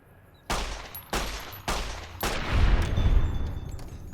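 9mm pistol fired in Fallout New Vegas: three sharp, loud shots spaced roughly half a second apart, each with a short decaying tail, then a heavier booming burst of rumbling impacts that swells and trails off.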